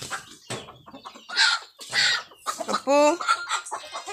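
Chickens cluck and squawk in a poultry enclosure, several short bursts close by, with someone talking over and between them.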